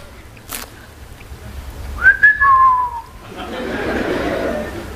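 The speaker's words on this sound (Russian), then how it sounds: "Ты что, свистеть умеешь?" A person on a comedy stage lets out a brief, clear two-note whistle that slides downward. Crowd murmur and low chatter then swell up behind it.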